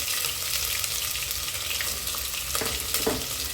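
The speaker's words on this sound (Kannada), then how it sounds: "ಇವಾಗ ಇದನ್ನು ಚೆನ್ನಾಗಿ ಫ್ರೈ ಮಾಡ್ಕೊಬೇಕು" Pulao spices with ginger and garlic paste fry in a pan, giving a steady, loud sizzle close by that runs without a break, with a few faint stirring clinks near the end and no voices.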